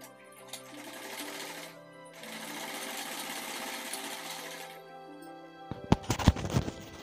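A sewing machine stitches a ladies' salwar suit in two long, steady whirring runs with a short pause between, followed by a few sharp clicks and knocks as the fabric is handled.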